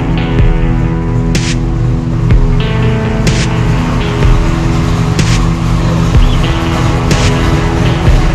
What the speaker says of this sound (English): I think it's time to get the Nova out and pull her in